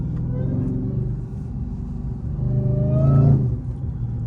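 A Dodge SRT Hellcat's engine rumbles low and heavy from inside the car, swelling into a louder accelerating growl near the end before settling back.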